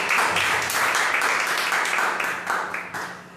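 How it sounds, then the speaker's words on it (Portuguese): A church congregation applauds for Jesus during a service, steady dense clapping from many hands filling the room throughout before tapering slightly at the end. "E as palmas para Jesus."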